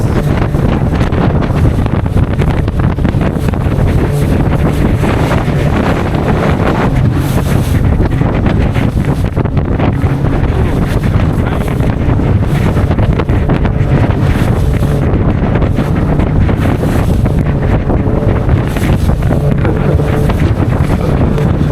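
A catamaran pounds across rough, huge waves off Waya Lailai Island in Fiji, with constant loud wind buffeting the microphone and rushing water all the way through.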